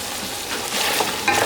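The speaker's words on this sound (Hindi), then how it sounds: "इसको हम इसमें अच्छे से भून लेंगे।" Chicken frying in a pan with onion-tomato paste for a traditional Sobat (Painda) dish, a steady crackling sizzle that grows louder toward the end, with faint scraping of stirring and no talking.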